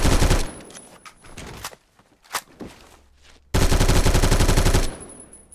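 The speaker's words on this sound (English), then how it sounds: "Put my muzzle into the floor and shoot." An AR-15 rifle fires into the floor in Phantom Forces: a long, loud full-auto burst, a few scattered single shots and quiet shuffling, then another sustained rapid burst close up.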